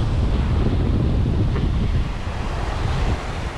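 Ocean waves and wind roar steadily around a fishing boat at sea while grouper fishing, a dense, loud wash with wind buffeting the microphone and no talk.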